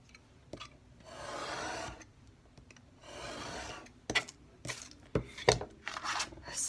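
A box cutter scrapes and rasps through book cover board in a few short strokes, close and fairly quiet, with small handling knocks between cuts.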